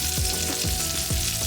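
Keto pizza frying in a pan gives a steady, loud sizzle throughout, with several soft scraping stirs beneath the continuous crackle.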